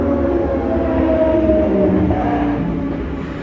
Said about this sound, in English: Got motorcycles up top there. That's where you hear that noise.